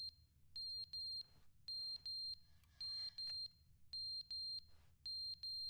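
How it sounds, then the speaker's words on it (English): Smoke alarm in The Stanley Parable: Ultra Deluxe, sounding in regular pairs of shrill high beeps with short gaps, steady and fairly loud over a low hum, with a few faint clicks between. "Is that the smoke alarm?"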